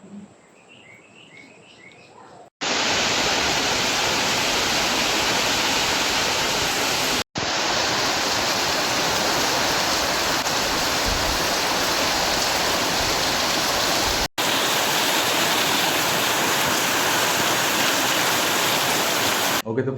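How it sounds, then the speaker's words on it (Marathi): Water pouring and splashing continuously for washing up, a loud steady rush that cuts off briefly twice, preceded by a quieter stretch at the start. "पाणी घालते मी जरा"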